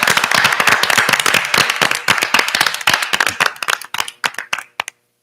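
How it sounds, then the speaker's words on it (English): A small group of people claps for retirees at a retirement celebration, loud close hand claps that start dense, then thin out into scattered individual claps and stop. "I'm going to ask that you join me in giving a round of applause and thank you to all of this year's retirees"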